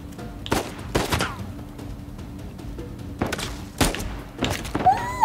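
Single gunshots ring out in the video game Uncharted 4: A Thief's End, sharp loud cracks spaced a second or two apart over a quieter background, with a few softer thuds between them.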